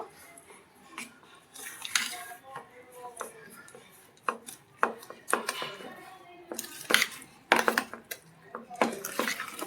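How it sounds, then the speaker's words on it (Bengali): Semolina and flour dough being mixed and kneaded by hand in a bowl for Bengali tal malpua, with scattered clinks, taps and rubbing scrapes in an irregular rhythm, close and moderately loud. "এটা এবার ভালো করে মেখে নিচ্ছি"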